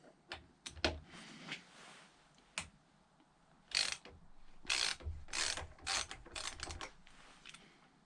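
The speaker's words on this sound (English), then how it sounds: "with your 6mm Allen key, we're just going to release the pressure on the two upper yoke pinch" Allen key working the upper yoke pinch bolts on a Triumph Speed Triple's headstock, giving a run of close, dry ratcheting clicks and short metallic bursts with brief pauses between them and no talking.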